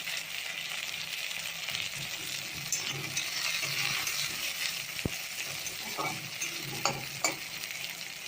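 Oil sizzles steadily in a pan as jackfruit fries lightly, with occasional stirring scrapes and light clicks of a utensil against metal.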